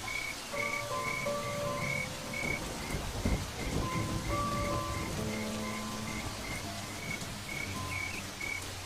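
Steady rain hisses across the Serengeti. Sustained insect or frog tones and scattered croaks continue throughout, with no voices.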